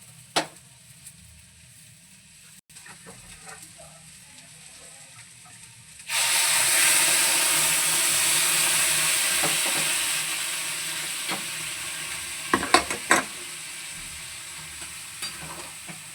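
Water poured into a hot pan of whole spices (cinnamon, cloves, star anise) for buttery prawn pulao bursts into a loud, sudden sizzle after a few quiet seconds, then hisses steadily and slowly fades, with a few clinks near the end.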